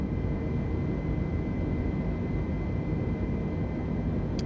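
Steady broadband jet roar from an airliner climbing with auto thrust in Microsoft Flight Simulator, a continuous even drone with a faint high whine and no voices.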